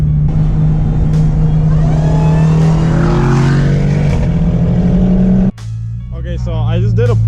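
A Nissan G35 with a rear-mounted turbo pulls hard under full boost, its engine drone climbing steadily and loud for several seconds before cutting off abruptly, then rising again as a voice talks over it.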